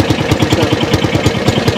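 A homemade car built in Pokhara, started with a push switch, runs with a close, loud engine throbbing in an even, rapid pulse.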